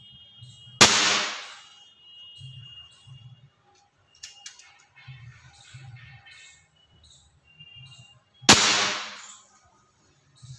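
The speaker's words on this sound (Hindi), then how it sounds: "अभी बिना श्राउड के 10 फीट अवे हम लोग एक दो शॉट्स लेंगे" A Gare Bhim air rifle, fired without its shroud from about ten feet, gives two sharp, loud cracks several seconds apart, with quiet handling noises between them.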